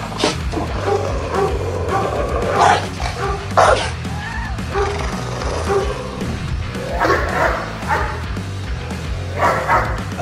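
A Doberman growls and barks in short bursts over a low rumbling background, fairly close and aggressive-sounding.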